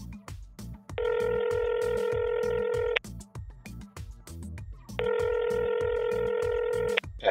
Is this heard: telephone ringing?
yes